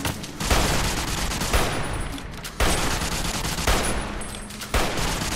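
Bursts of rapid gunfire in the Fallout: New Vegas video game, loud and close, coming in three sustained volleys separated by brief pauses, with no talk over them.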